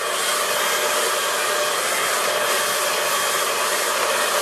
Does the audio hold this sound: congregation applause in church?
no